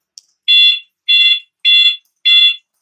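Motorcycle alarm on a Beat FI scooter, triggered when the turn signal is switched on: four loud, evenly spaced electronic beeps, each about a third of a second long, sounding alone.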